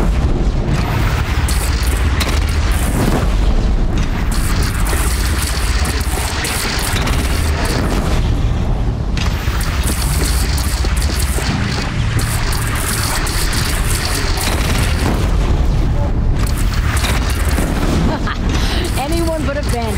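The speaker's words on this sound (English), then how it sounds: "They only have one cannon!" Bandit cannon fire in the Horizon Zero Dawn video game: repeated loud booms and blasts in a dense, continuous battle mix, with shouting voices and gunfire-like crashes throughout.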